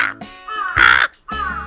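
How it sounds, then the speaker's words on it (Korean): Crows nesting near a house call at night, giving three loud, harsh caws in quick succession, close by and clear, with no talking. "요새 밤에 까마귀들이 엄청 울더라고."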